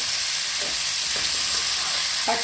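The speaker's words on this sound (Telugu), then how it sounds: "వంకాయ ఇలా ఫ్రై కావాలండి గోల్డెన్ బ్రౌన్లోకి కొద్దిగా మారాలండి" Brinjal frying in a pan until golden brown, for a roasted brinjal chutney: a steady, dense sizzle throughout, close and even, with a few soft stirring scrapes and no voices.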